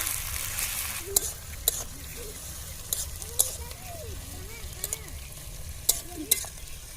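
Onions frying in a pan give a steady, close sizzling hiss, broken by a few sharp spatula taps and scrapes spread through the stretch.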